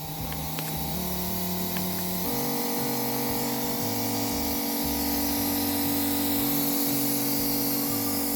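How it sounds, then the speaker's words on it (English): Motorized sprayer running steadily on pepper plants infested with bugs, a loud continuous droning hum with shifting pitch and pulsing tone, close and alone with no talk. "Let's spray the shit out of this thing."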